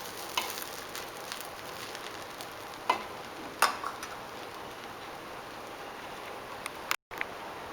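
Bread scrambled veggies sizzle in a pan while a utensil stirs and scrapes, a soft steady fry broken by occasional sharp clinks and scrapes, close and without talk.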